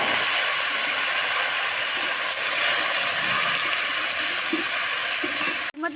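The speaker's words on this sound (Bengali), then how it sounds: "এখন এর মধ্যে আমি এই লতিগুলোকে ঢেলে একটু ভেজে নেব।" Loud, steady sizzling and hissing as kochur loti (taro stolons) fry in hot oil with a bay leaf and dried chilli in a pan, continuous and close, cutting off abruptly at the end.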